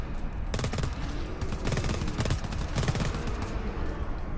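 Rapid automatic gunfire in the video game GTFO, bursts of close, loud shots that repeat over several seconds with no talking.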